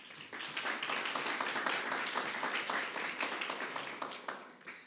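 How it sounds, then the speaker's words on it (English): Graduates and guests at a graduation ceremony give a round of applause: dense, steady clapping from a crowd that swells and then fades out after a few seconds. "So I think you deserve a round of applause."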